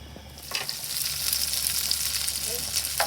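Bite-sized veggie burger pieces frying in a pan, a steady close sizzle and crackle that holds evenly throughout with no talking.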